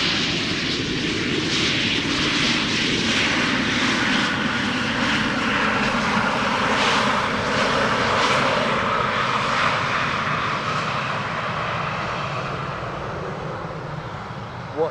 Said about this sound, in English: KLM Flight 980, arriving from London City